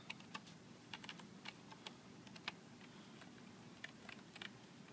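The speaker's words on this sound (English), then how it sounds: "I'm typing on the keyboard" Light, irregular clicking of keys on an Apple Bluetooth keyboard, quiet and close, with scattered individual taps and short bursts of typing.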